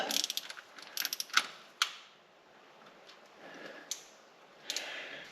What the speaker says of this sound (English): I'm really not sure about this torque wrench. It doesn't seem to click very much